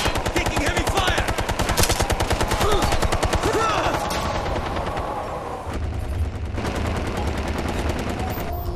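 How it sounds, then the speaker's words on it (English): Heavy gunfire in the Ghost Recon Future Soldier video game: rapid, loud automatic bursts with overlapping shots that thin out partway through, under faint game voice chatter. "Taking heavy fire."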